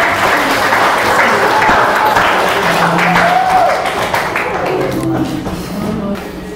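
A classroom of students gives sustained, steady applause that fills the room and slowly tapers off toward the end.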